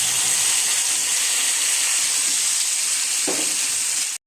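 Spice paste tipped into hot oil in a pan, bursting into a loud, constant hissing sizzle close by, with a brief scraping stir near the end before it cuts off abruptly.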